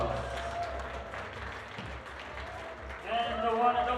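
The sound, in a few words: audience applause at youth boulder finals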